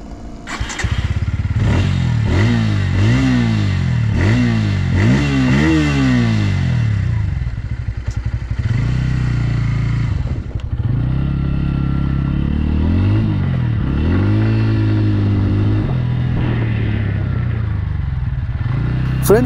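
A 2025 Bajaj Pulsar N160 single-seat motorcycle on the move, its engine rising and falling through repeated gear changes and revs, loud and close throughout with wind rumble.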